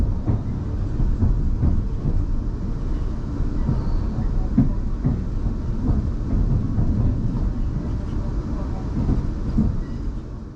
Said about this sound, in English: This train is now approaching its final stop.